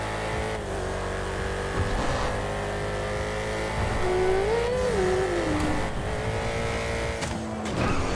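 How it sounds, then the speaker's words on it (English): Car engine in GTA revving and stuck in high gear during a Los Santos chase, a sustained loud engine drone with rising and falling pitch swings and a brief tire squeal. "If you get to a certain speed, you get stuck in high gear."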